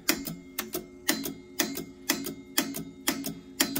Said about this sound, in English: it's basically kicking those relays on and off